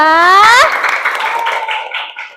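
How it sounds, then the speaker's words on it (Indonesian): Children in a classroom coding lesson give a rhythmic clapping cheer for a group, starting with a loud sung shout and then a quick run of claps that fade toward the end. "Kasih dulu tepuk wow untuk kelompok 2."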